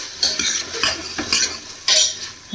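A spoon stirs vegetables frying in spice masala in a pan, giving close scraping strokes at a steady rhythm over a soft sizzle.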